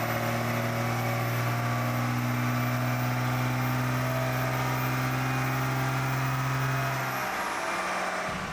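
A 24-valve Cummins diesel truck engine, running injectors only with no tuning, roars loudly at sustained high revs on a dyno run, then drops off near the end.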